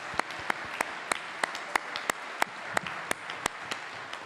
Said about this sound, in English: I'd say a round of applause to them